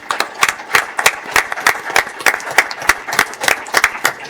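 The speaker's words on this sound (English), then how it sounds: "Let's give her a big round of applause for that" A round of applause at a city council special meeting, a small room of people clapping in brisk irregular bursts, close and fairly loud, with a few sharper claps standing out and no speech over it.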